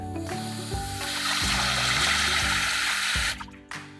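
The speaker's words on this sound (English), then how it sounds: "fill it up, this time without water going everywhere" Water runs steadily into a pot from a tap, filling it for a turmeric silk dye bath, a continuous close rush with faint rhythmic pulses before it stops abruptly near the end.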